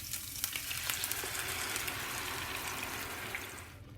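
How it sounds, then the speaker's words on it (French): Garlic frying in oil in a pan, with tomato pulp added, sizzles in a steady, loud, close hiss that fades slightly toward the end, with no voices. "Je fais revenir l'ail légèrement."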